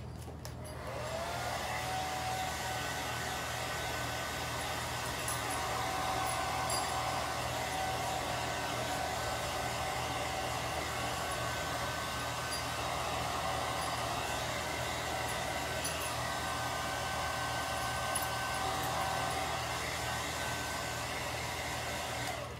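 A hair dryer blows with a steady, whirring roar that runs continuously for the whole stretch, close by and unchanging, with no voices.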